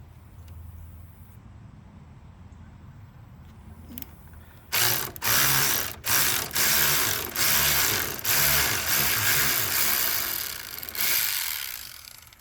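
A ratchet backs screws out of the metal frame of a broken Quest Angler 10 boat trailer. Loud, close bursts of rapid clicking repeat with short pauses after a quiet start, and no one talks.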